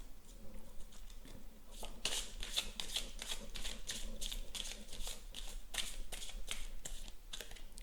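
Tarot cards are shuffled by hand in a quick run of crisp, rhythmic riffles and snaps, close and clear against a quiet room.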